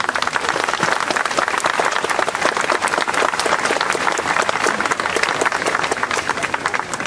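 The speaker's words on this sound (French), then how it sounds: "Je crois qu'on peut applaudir nos enfants." An audience at a commemorative event for a World War I monument applauds children, with dense, steady clapping from a large crowd that stays loud and continuous throughout.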